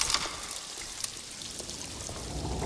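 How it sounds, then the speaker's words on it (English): Water floods a room in the video game Alone in the Dark, a steady close rush of pouring and splashing that holds at an even level throughout, with no voices. "Is the place filling with water?"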